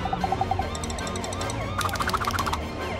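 Police siren in a staged prison-escape chase scene, with brief repeating electronic whoops and wailing tones that come in bursts, moderately loud and mixed with other sound effects and some voices.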